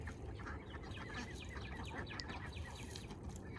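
Ducks on a homestead quack and chatter in a busy overlapping flock, faint and somewhat distant over a low rumbling outdoor background.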